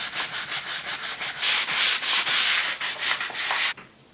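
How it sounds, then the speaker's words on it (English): Sandpaper rubbed over a wooden head in quick back-and-forth strokes, a loud, close rhythmic scratching that speeds into longer strokes before stopping abruptly. "I'm just going to run a little bit of sandpaper over it"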